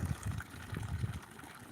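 Water running into a livestock trough on a farm, a steady low gushing and splashing close by with uneven surges, heard alone.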